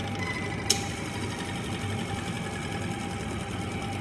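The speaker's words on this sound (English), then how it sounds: "we're gonna quickly grind it before it heats up. Gonna grind it really fine now." An electric coffee grinder grinds frozen coffee beans to a fine powder with a steady, even drone, close and moderately loud, and a single sharp click near the start.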